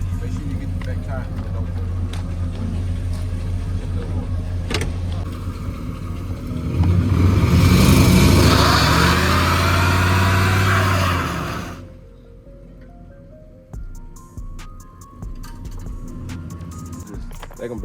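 An 1988 box Chevy on 28-inch wheels revs hard for several seconds with a roaring surge and tire spin on wet ground, then drops back to a quieter idle, with people talking nearby before and after.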